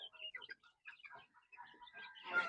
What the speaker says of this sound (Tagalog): Napaka-healthy ng mga darag native chicks.